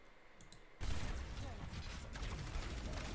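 Zarya's weapon in the Overwatch video game fires in a sustained, dense stream against a bubble shield, starting abruptly and holding steady at close range with faint clicks before it begins.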